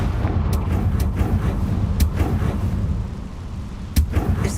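Confringo fireball spells explode in Hogwarts Legacy, a series of sharp cracking blasts at a steady rhythm over a continuous low rumble, loud and close with no talk.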